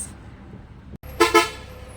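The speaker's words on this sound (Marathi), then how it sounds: "हॉर्न" A luxury sleeper bus horn gives two quick, loud honks close by, set against a steady background of road noise on the NH-66 highway in Konkan.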